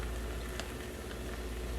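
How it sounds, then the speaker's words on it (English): Steady, quiet crackling sizzle of food frying in a pan, continuous broadband hiss with a few faint pops, no voices. "You guys hear that sizzle sizzle?"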